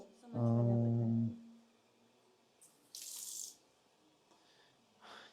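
A water tap in an old kindergarten in Osh runs into a sink in a short, loud gush of about a second before shutting off, followed by quieter splashes and drips nearby.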